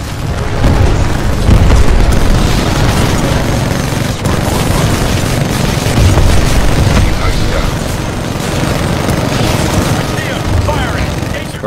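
Artillery strikes pound the battlefield in the shooter Titanfall 2, a dense, continuous barrage of loud booming explosions and gunfire rumbling on without pause, with voices talking over parts of the chaos.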